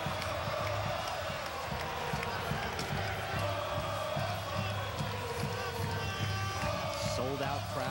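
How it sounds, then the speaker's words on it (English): Sold-out stadium crowd at BMO Field in Toronto, a dense steady roar of many voices and background noise filling the whole stretch, with talk over it. "Sold out crowd again here"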